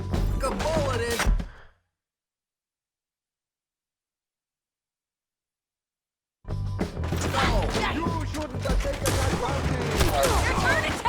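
Rapid gunfire bursts from a shootout in Red Dead Redemption 2, loud and dense, cutting to silence for several seconds before a sustained barrage of overlapping shots resumes.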